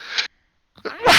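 During a tabletop Dungeons & Dragons session, a person lets out a sharp sneeze that builds in two quick parts with a brief pause between them, close to the microphone and ending in a loud burst.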